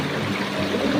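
Mountain stream water pours at a waterfall in a constant, close, broadband rush with no other sounds over it.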